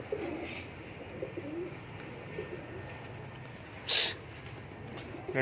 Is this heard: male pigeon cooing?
yes